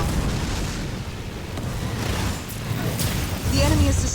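A building blows up in a real-time strategy game: a broad, rumbling explosion with a whooshing burst near the end, mixed with battle noise and speech.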